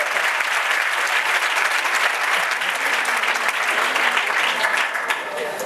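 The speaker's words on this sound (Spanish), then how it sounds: "Un aplauso, un aplauso." A graduation audience applauds continuously, a dense, loud wash of clapping that holds steady throughout and eases slightly at the end.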